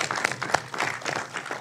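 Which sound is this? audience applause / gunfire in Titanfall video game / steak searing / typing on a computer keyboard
audience applause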